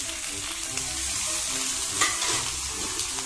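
Chicken being stirred in a pan of bubbling coconut milk sauce for binagoongan sa gata, with a steady close sizzle and soft scraping of a spoon through the thick liquid.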